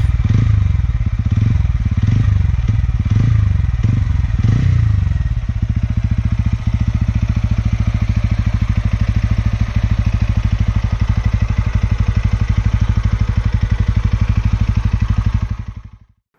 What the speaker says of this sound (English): Once you slot the key and switch on the engine, the sound emanating from the machine is very gentle yet very masculine.